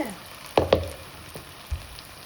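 Mysore bonda fry in hot oil with a low, steady sizzle, punctuated by a few sharp clinks and scrapes as a utensil stirs them, close and quiet, with no voices.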